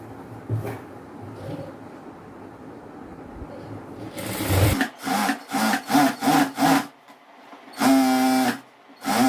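A sewing machine stitches a gathered chudidhar pant in stop-start bursts. A quieter handling stretch comes first, then a run of short rhythmic whirring runs and one longer burst near the end. It is close and fairly loud.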